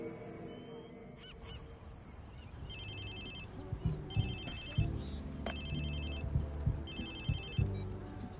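A mobile phone ringtone chirps in short repeated bursts during gameplay in Watch Dogs 2, sounding over low thumps and ambient game noise.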